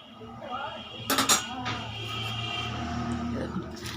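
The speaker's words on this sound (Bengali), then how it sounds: "এবার আমি মাছটা দিয়ে দেবো।" Fish pieces dropped into a pot of boiling liquid, a short cluster of metallic clatter from the pan and utensil followed by a steady bubbling simmer, close and moderately loud.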